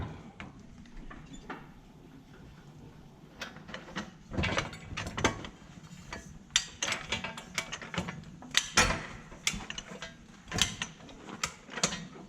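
Wrench work loosening bolts on the rear of a Krone Comprima V 180 XC baler, heard as irregular metallic ratcheting clicks and clanks, close and moderately loud, with bursts clustering in the latter half.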